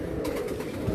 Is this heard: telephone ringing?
no